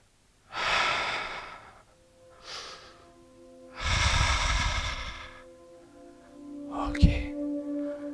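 Deep breaths taken during a Pilates class: slow, close, airy inhales and exhales in a steady rhythm, with a faint hum and a brief knock near the end.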